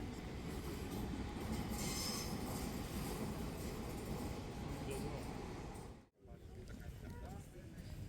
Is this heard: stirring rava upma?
no